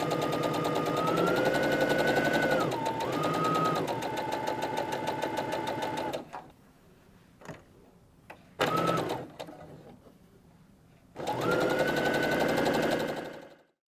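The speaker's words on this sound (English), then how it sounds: "sew it with a regular 1/4 inch seam without doing anything special yet" Sewing machine running fast and close while stitching charm pack squares with a regular quarter-inch seam, a steady mechanical hum broken by two pauses before it starts again.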